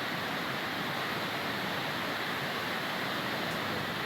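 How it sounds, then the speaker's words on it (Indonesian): The Bantimurung waterfall is hit by a flood torrent after heavy rain: a steady, dense roar of rushing water, even and unbroken throughout, with no voices. "Air terjun Batimurung diterjang air bah."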